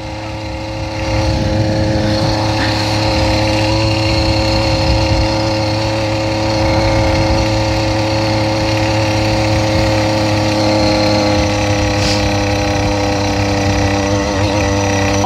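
A motorcycle with a faulty ignition coil and no suspension drones steadily at speed while overtaking a truck, a loud continuous engine and wind roar with a slight swell near the start and no speech.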